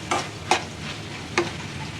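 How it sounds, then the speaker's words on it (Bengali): Fish and teasel gourd fry in a pan with a steady, soft sizzle, punctuated by a few brief scraping stirs close by. No voices are heard. "এই যে মাছ আর কাঁকরোল ভাজতে দিছি, সেটাও হয়ে গেছে"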